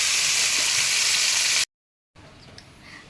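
Bitter gourd frying in hot oil, a loud dense sizzle that cuts off abruptly, then a quieter fizzing after a short silent gap.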